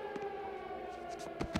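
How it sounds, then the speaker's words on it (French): A siren wails steadily in an animated Transformers: Rescue Bots cartoon, a sustained tonal drone with short sharp sound-effect bursts cutting in near the end. "Éteignez cette sirène ou tous les habitants vont..."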